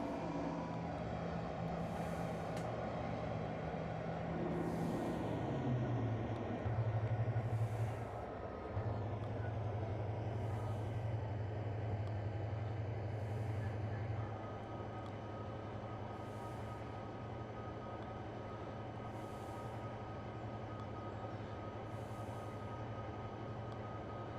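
A train in the Trainz railway simulator game slows down: a steady low rumbling drone with a humming engine tone that steps down in pitch and eases off, with no voices.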